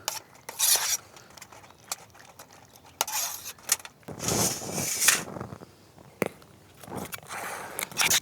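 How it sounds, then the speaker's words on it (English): Cheese sauce stirred in a titanium camping pot, a spoon scraping and clinking against the metal in irregular bursts, close up and fairly loud, with pauses between strokes. "I am going to keep stirring it because this pot is titanium"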